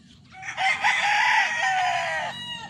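A Boston Millionaire gamefowl rooster on a game farm lets out one loud, close, drawn-out crow lasting about two seconds, with no voices.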